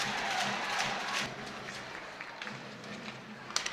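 Crowd at an ice hockey game between the Cardiff Devils and the Panthers reacting to a goalie's blocker save: a broad wash of applause and crowd noise, fullest in the first second or so, then easing into a steady murmur.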